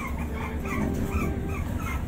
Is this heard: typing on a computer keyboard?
no